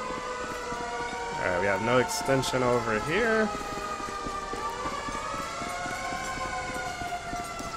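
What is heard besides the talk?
fire engine siren arriving in GTA 5 video game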